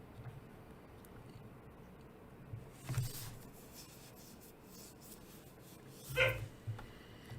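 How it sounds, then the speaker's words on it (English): A dog in the room gives two brief whimpering yelps a few seconds apart, faint and close-ish, over quiet background rustling and room noise. "Sorry about the dog noises."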